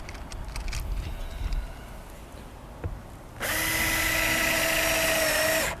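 A power drill runs a screw into an RV awning rail with a steady, loud high-pitched whir lasting about two and a half seconds, preceded by quieter handling and shuffling noises.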